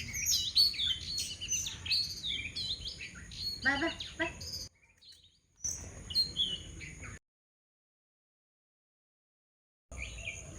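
Birds chirp among trees outdoors in short, bright bursts that come close together, with a brief quiet gap and a longer silence before the calls resume.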